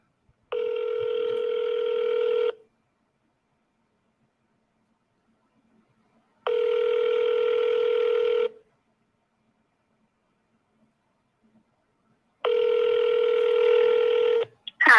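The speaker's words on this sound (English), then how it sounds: "let's dial it back." An outgoing telephone call rings on the line: three loud, steady electronic tone bursts of about two seconds each, evenly spaced by long silent gaps, with no talking over them.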